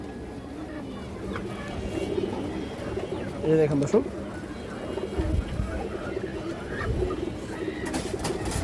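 A large pigeon of an old bloodline, in a bird seller's loft, coos softly in a short low burst beneath continuous nearby talk from a man.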